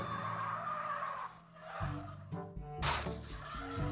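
A video game vehicle slides and skids in a free-roam city, tires squealing loudly over an engine drone, with a sharp screech burst near the end.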